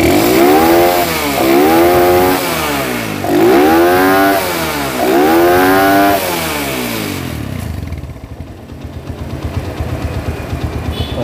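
A motorcycle engine on a workbench during a pickup and charging system check revs up repeatedly in four rising and falling surges, loud and close, then drops to a rough, uneven idle.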